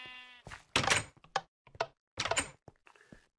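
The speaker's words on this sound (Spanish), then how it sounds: "Tenemos alguna oveja que otra, algún conejo." A Minecraft sheep gives one short, wavering bleat, followed by a string of blocky thuds, knocks and game footsteps with brief silences between them.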